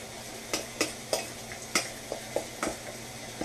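Beet greens salad with olives being mixed in a bowl, a series of soft, regular scrapes and taps of a utensil, fairly quiet and close, with no talk.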